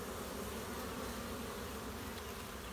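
A dense mass of honey bees flies into the hive, a steady buzzing drone that fills the whole stretch, soft and close, with no voices.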